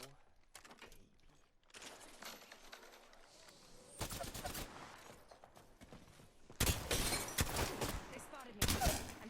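Gunfire in the Apex Legends video game comes as sharp rapid bursts of shots, quiet and scattered at first, then louder volleys near the end, mixed with faint talking.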